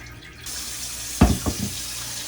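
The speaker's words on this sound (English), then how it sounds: "pour however many cups of water that's going to measure with your cup, with your type of pot." Water pours from a tap into a pot for a Christmas Yule simmer pot, a steady close splashing stream that starts after a short pause, with a few heavier gulps partway through.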